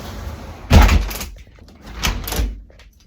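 A home studio door swings shut in two separate closings, each a solid low thunk with a brief rattle, fairly close with quiet room tone between.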